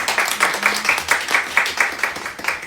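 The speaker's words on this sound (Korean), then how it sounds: "생명의 근원 되신 주께 영광의 박수 올려드리도록 하겠습니다." A church congregation claps together during a Sunday morning service, the applause falling into a steady rhythmic beat of unison claps at a lively, even pace that stays close and loud throughout.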